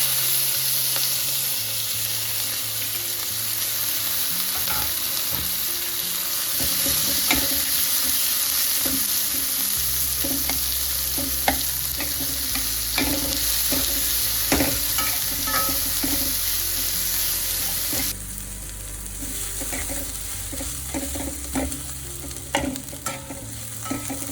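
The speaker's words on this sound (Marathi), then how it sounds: "कढीपत्ता, मिरची आणि कांदा टाकते" Curry leaves, green chilli and onion dropped into hot oil already crackling with mustard seeds and asafoetida, sizzling continuously for a long stretch while a spoon stirs and clinks against the pan, close by, without any speech.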